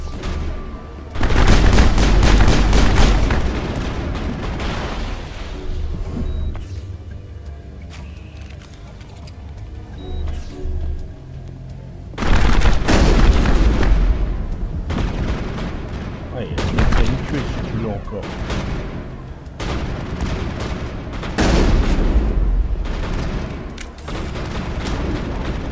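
Automated turret fire in Mass Effect: repeated heavy bursts of gunfire with booming impacts in several waves, loud and close, with someone talking at times between the volleys.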